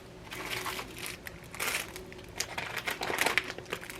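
Foil wraps for acetone nail polish removal crinkle and rustle close up in a manicure setting, a steady irregular crackling for several seconds with brighter bursts, no voices.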